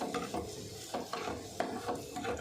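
A mixture of huli powder and saaru powder being stirred by hand for Ballari-style sandige gojju, heard as soft repeated scraping and rattling strokes at a steady rhythm, quiet and close, with no talking.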